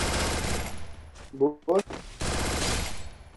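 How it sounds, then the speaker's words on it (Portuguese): Rapid bursts of gunfire from the shooter game Free Fire crackle loudly at the start and end. A voice speaks briefly in the gap between them. "Já dei quatro tiros nele."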